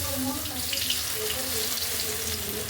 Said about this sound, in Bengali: বেটারের মধ্যে মোচার অংশগুলোকে এক একটা পিসকে ভালো করে ডুবিয়ে নিয়ে এবার তেলে ছাড়লাম